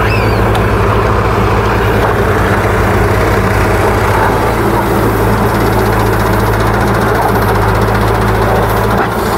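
A tractor engine runs steadily at a loading site where a JCB loads a trolley, with a constant low rumble and knocking hum held close and loud through the whole stretch, no talk.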